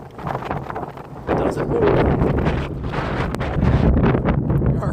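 Strong wind in a snow storm roars and buffets the microphone around a rider on horseback, steady and gusting throughout, while a person speaks briefly.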